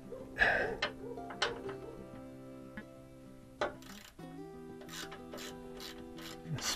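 Ratchet wrench spinning a 13 mm bolt off a GM truck (Yukon, Tahoe, Silverado) during an ABS repair: a run of quick mechanical clicks and rasping turns, with several separate bursts, close and moderately loud.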